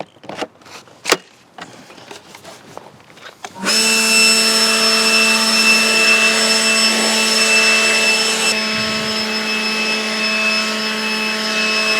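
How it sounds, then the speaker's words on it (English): A leaf blower roars into life after a few seconds of faint knocks and blasts dirt and weeds off a concrete driveway, holding a loud, steady whine close to the microphone until the end. "I've blown out a lot of the dirt with the blower"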